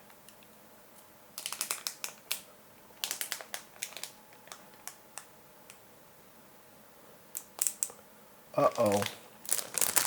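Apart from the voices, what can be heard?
peeling protective film off a PC case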